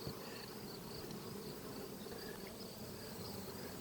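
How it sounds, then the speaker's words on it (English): Honey bees in an opened super-sized beehive hum in a dense, continuous drone that stays steady and fairly soft, with no talk. "See, there's all the bees."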